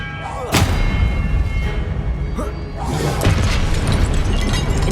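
Expelliarmus spell cast in Hogwarts Legacy, a sharp cracking burst followed by rumbling impacts, then another flurry of bright snaps and booms a couple of seconds later, fairly loud throughout.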